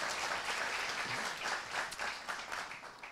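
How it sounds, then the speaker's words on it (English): A church congregation applauds warmly for Alexandra, a dense continuous roll of many hands clapping close and loud, fading slightly toward the end. "Clap your hands,"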